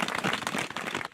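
A short burst of crowd applause for the ski race course preparers at an FIS race in Isola 2000, dense rapid clapping that holds steady, then stops abruptly.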